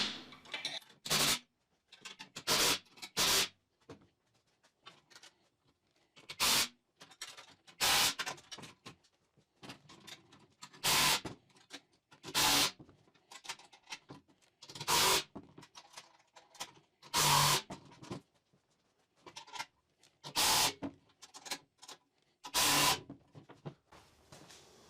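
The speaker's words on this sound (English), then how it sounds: "I'm going to use a 1/2-inch socket and a 1/2-inch wrench to secure this" A 1/2-inch socket and wrench tighten the leveling feet on a DWC2440 CNC frame, giving a close series of short, sharp ratcheting clicks in uneven bursts separated by brief pauses.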